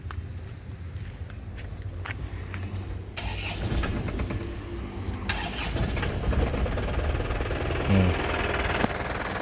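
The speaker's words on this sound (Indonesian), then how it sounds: "Sekarang kita nyalakan mesinnya ya, yuk kita nyalakan mesinnya." A 2010 Touring turbo with a manual gearbox cranks and fires up, the starter whir giving way to a steady mid-pitched idle, recorded at close range with faint handling noises and no clear talking.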